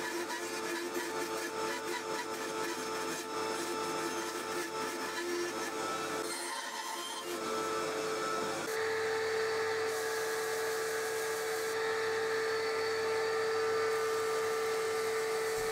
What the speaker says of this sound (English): I could then shape the headstock on the bandsaw and on the belt sander.